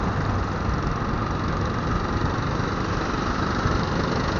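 A motorcycle engine hums steadily while riding through Delhi traffic, a continuous close drone with road and wind noise mixed in and no speech over it.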